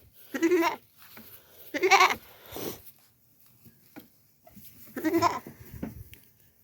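Goats bleat in three separate bursts with short quiet gaps between them, fairly close and clear, with faint rustling in the background.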